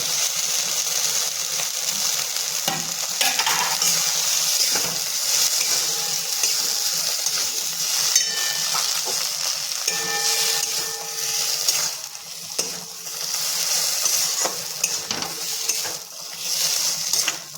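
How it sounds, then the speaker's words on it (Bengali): Fried potatoes tossed into spinach paste cooked down with spices, sautéed in a pan with a steady close sizzle and scraping stirs, occasional clinks of a utensil against the pot. "এবার আমি ভেজে রাখা আলুগুলো দিয়ে দেব।"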